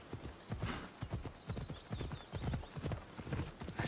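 A horse in Assassin's Creed Odyssey gallops with rapid rhythmic hoofbeats and gives a high whinny partway through, moderately loud game audio with no speech.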